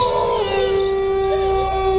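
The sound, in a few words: howl of a giant dog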